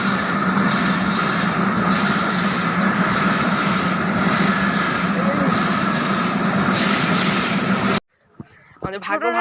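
A train passes near the Ishwardi bypass in Bangladesh. Its loud, continuous close rumble fills about eight seconds, then stops abruptly, and a person starts talking.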